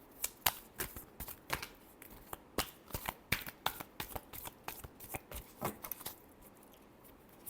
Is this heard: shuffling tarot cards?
yes